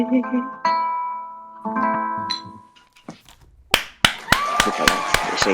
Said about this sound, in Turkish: Alp alkışı bir daha bas Alp.